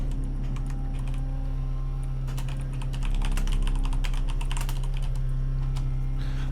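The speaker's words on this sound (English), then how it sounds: "I'm tired of typing circuit breaker box." Rapid clattering on a computer keyboard, a dense run of keystrokes growing busier partway through, heard close over a steady low electrical hum.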